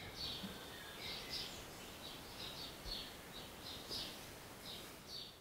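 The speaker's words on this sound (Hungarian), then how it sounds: "Hallod a madarak csicsergését?" Birds chirp faintly outdoors at a zen temple retreat, a thin repeating series of short tweets over a quiet background hiss.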